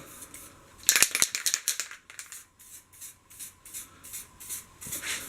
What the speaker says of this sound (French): Avec la bombe on va venir tout simplement